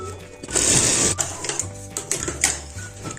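A sewing machine stitches a ladies' shirt, running in a steady mechanical whir with busy clicking, fairly close and moderately loud, with a few brief pauses and shifts in pace.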